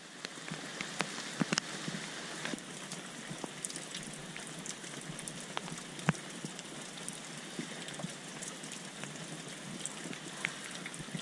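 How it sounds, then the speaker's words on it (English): Pouring rain at night falls steadily on outdoor surfaces, a dense continuous hiss scattered with sharp individual drips and spatters, fairly close and even in level throughout, with no talking. "We're working in the pouring rain at night."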